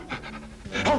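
A man imitates a dog by panting, quick rhythmic breathy huffs repeated close by, the vocal imitation rising louder toward the end, with no words spoken.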